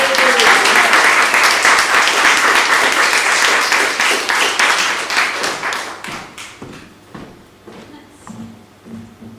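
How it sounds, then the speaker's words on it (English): An audience bursts into loud, sustained applause that gradually thins out into scattered claps and fades away. "Big round of applause, please."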